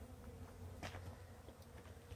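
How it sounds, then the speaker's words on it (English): Soft, steady insect buzzing fills the air, many bees humming at a distance around a swarm site with no voices, a continuous low drone throughout. "you can see all the bees in the air up there where the swarm used to be"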